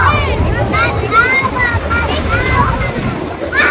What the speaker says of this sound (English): the waves got Jaden.